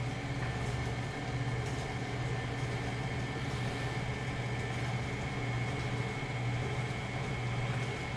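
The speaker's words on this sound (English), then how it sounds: "we're going to lock our mixer. We're just going to turn this on stir." A stand mixer hums steadily on its stir speed, mixing chocolate chip cookie batter, a constant motor drone with no talk over it.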